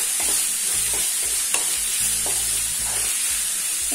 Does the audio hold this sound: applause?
no